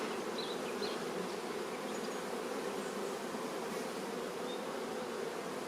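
Honeybees crowd a brood frame of a hive with a super, giving a steady, dense close-up buzz that holds at an even loudness throughout with no voices.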